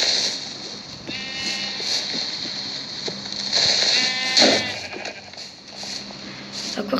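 Sheep in the Minecraft video game bleat a few times amid game noise, with short wavering cries near the middle over a busy background.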